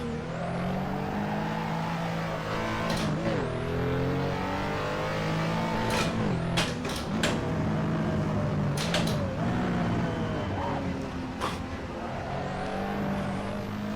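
A race car in a racing simulator on the Nürburgring, its engine revving hard and continuously, pitch climbing and dropping through gear changes, with sharp clicks and brief squeals over the loud, steady drone.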